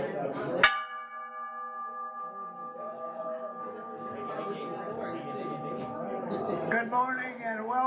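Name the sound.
gong being struck at Masters Breakfast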